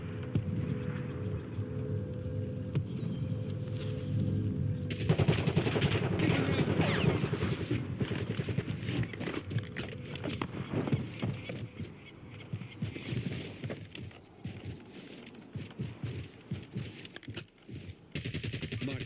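Gunfire in Warzone, automatic weapon bursts rattling through the clip amid game noise, with a loud dense stretch in the middle and scattered shots later.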